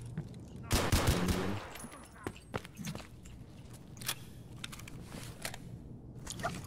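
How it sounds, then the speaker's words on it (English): Gunfire in the shooter game Escape from Tarkov during a factory raid, with a dense burst of rapid shots early on followed by scattered single cracks and footsteps, fairly faint overall. "Oh, please stop shooting, I'm just looting."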